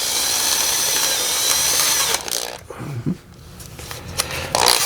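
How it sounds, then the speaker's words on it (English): A power drill with a 3/8 inch bit widens a hole in the inner passenger door of a 2011 Ford Fiesta, whirring loudly and continuously at first, then breaking into short bursts and stops; close by, no talking. "I'm just going to try and widen it out with the 3/8 inch drill bit a bit."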